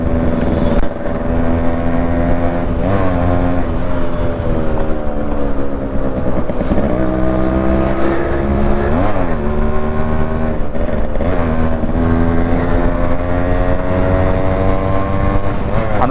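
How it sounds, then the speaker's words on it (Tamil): A Yamaha RX100 two-stroke motorcycle engine runs steadily close up, a loud, continuous buzzing drone that rises and falls slightly in pitch as the throttle is blipped. "அந்த சத்தம் தாங்க, இந்த சத்தத்தை தான் வந்து இந்த பைக் நிறைய பேர் லைக் பண்ணுறாங்க."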